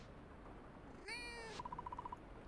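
A single drawn-out synthetic cat meow from the video game Fields of Mistria, bright and clear, followed by a quick run of short electronic chime blips, over a quiet background hum.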